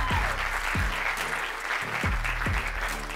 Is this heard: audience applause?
yes